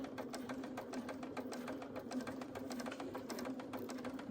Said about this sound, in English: we're going to sew all the way along to the end